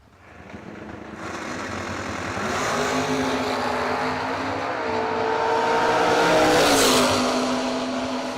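Two Camaros, a 1999 fourth-generation and a 1968 first-generation, launch side by side in a drag race at a bracket nationals event, loud continuous V8 engine roar building and revving as they pull away, with no talk.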